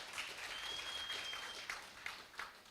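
Applause from the audience at a savings cooperative's annual general meeting, a steady wash of clapping lasting throughout, moderately distant with a few sharper individual claps near the end.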